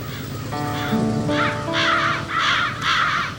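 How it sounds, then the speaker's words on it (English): Crows cawing at a large rookery, several harsh caws in a rough rhythm, fairly close and loud, with a brief tonal whine early on and a steady background hiss. "Crows, that is. One of the largest rookeries is right here on Canada's 42nd parallel."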